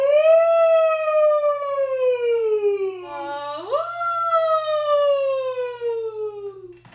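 A single voice imitates a siren, sliding in long wailing sweeps, dipping low and then rising again, sustained for several seconds without words.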